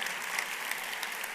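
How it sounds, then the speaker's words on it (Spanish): Steady applause from a congregation at a church gathering, a dense even clapping throughout with no pauses. "Un fuerte aplauso, Pastor Julio."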